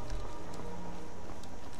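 Horse hooves clip-clop at a steady running pace in the Skyrim video game, with a continuous rumble of game sound beneath them.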